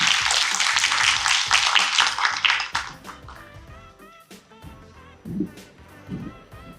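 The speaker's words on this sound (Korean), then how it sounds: "법무법인 가온을 이끄시는 강남규 대표 변호사님 큰 박수로 환영해 주시기" Audience applause greets a guest lawyer at a Korean seminar event, a dense burst of clapping for about three seconds that thins out, followed by quieter room sounds and faint talk.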